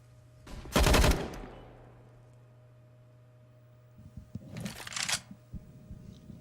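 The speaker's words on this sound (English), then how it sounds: "That's a beautiful shot from Jacob" Gunfire in a professional Counter-Strike match on the Train map, a loud sharp burst of shots followed by a quiet gap and then a second, more scattered flurry of shots and clatter, with no speech.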